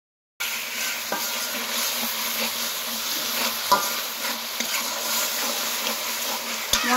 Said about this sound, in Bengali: মশলা আমার কষানো হয়ে গেল